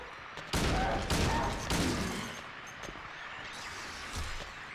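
Pistol shots fired in the survival horror video game Silent Hill 2, three sharp loud bangs spaced about half a second apart, each with a short decaying tail, followed by a quieter thud and faint ambient game noise.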